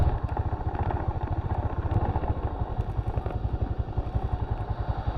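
A motorcycle ridden on dirt tracks and farm roads near a dam, its engine a loud, continuous pulsing drone with slight unevenness, close to the rider and without speech.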